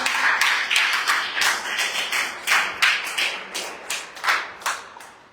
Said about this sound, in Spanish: Dale fuerte el aplauso, ¿cierto?